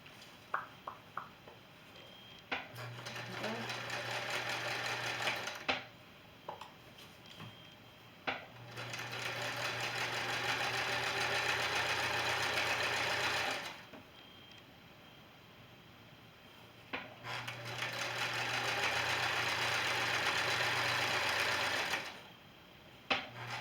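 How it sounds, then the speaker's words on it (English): A sewing machine stitches lined-up quilt fabric pieces for a scarf made from a fat quarter, running in three steady, loud bursts with short pauses between them and no talk. "It's just a matter of running them through the machine."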